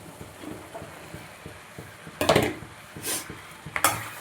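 Cut mushrooms are tipped into a pan of cooked-down tomato gravy and stirred, with soft scraping and a few sharp clattering knocks of the spoon against the pan over a quiet sizzle.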